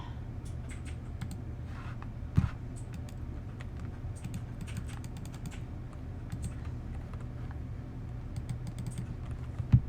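Quiet keypad typing in the video game The Stanley Parable: a scatter of soft, rapid key clicks over a low steady hum, with a couple of louder taps.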